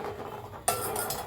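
A spoon stirs sugar into kheer in a metal pot, a single sharp clink against the rim followed by soft scraping and swirling, close and brief.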